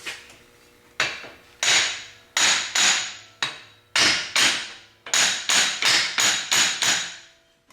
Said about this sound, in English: I'm going to take a hammer and just try tapping on the back side